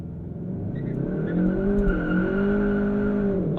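A 2022 Kia K5 GT launching hard from 3,000 RPM with the brake held, its engine note rising steadily as the tires squeal and scrabble for grip, loud and close throughout.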